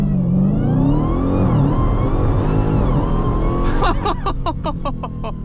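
A Dodge Demon 170 launching from 0 to 60 mph, a loud continuous engine roar rising in pitch, then a quick series of sharp upshifts with rhythmic bursts near the end, heard from inside the car.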